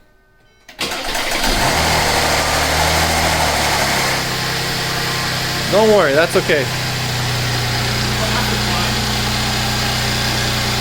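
A Mercedes E350 with the M276 engine cranks and catches, then settles into a steady, smooth idle after timing chain tensioner replacement, with no rattle; a person speaks briefly over the running engine.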